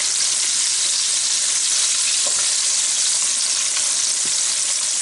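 Chicken drumstick lollipops fry in hot oil, a loud dense continuous sizzle filling the whole stretch close up, with a faint clink or two and no talking.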